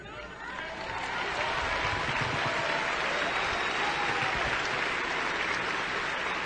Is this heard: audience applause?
yes